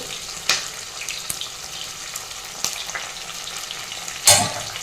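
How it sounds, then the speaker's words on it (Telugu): Dried red chillies frying in hot oil with garlic for drumstick dal, a soft steady sizzle with occasional stirring scrapes and a louder crackling burst near the end, no talking. "ఇప్పుడు 2 ఎండుమిర్చి యాడ్ చేస్తూ ఉన్నాను."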